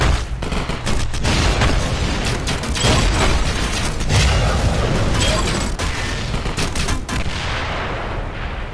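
Artillery fire in the VR war game League of War VR, loud and relentless, with repeated heavy blasts and booming impacts crowding together into a continuous barrage.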